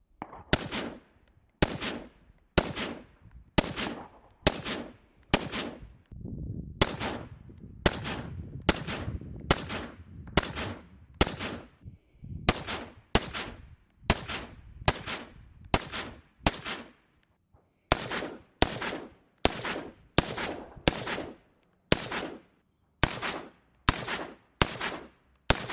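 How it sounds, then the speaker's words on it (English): Suppressed rifle shots through a Dead Air Lazarus 6 and other suppressors, including a Liberty Precision Torch with vented and solid end caps and a SiegeRock 5.56 can, about thirty sharp, evenly spaced cracks in short groups, each with a brief tail. "compare some of the sound clips here of the Lazarus 6 next to a Liberty Precision torch with a vented end cap and a solid end cap"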